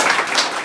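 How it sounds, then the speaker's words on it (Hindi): Audience clapping at a small spiritual program, a short dense burst of many hands heard at moderate loudness. "तो एक बार ताली बजा लीजिए।"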